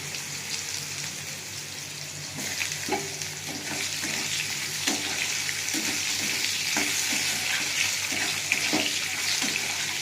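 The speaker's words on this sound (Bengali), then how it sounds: "একটু আলুগুলো দিয়ে দেবো, একটু ভাজা ভাজা করে নেবো।" Potatoes sizzle and crackle frying with onions in a hot pan while a utensil scrapes and stirs at intervals, close and fairly loud with no talking.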